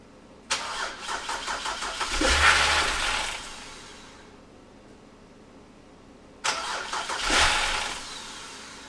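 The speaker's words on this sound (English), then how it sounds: "Starts, but it keeps starting to die." A BMW with a replacement eBay ECU and a weak battery on a jump pack cranks and catches, runs roughly for a moment and dies, then cranks and fires again; loud and close, with no talking.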